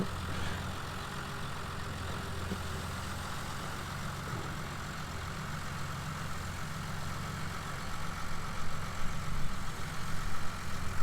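A retired 3350 tractor engine runs steadily at idle close by, a low continuous diesel rumble that grows slightly rougher and louder toward the end.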